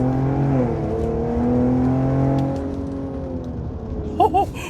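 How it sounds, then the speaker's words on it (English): A car fitted with a Thermal exhaust and free-flowing downpipes revs loudly up close, its droning engine note rising and easing over a few seconds before a couple of sharper blips at the end. "This exhaust here sounds amazing. My goodness, listen to this thing."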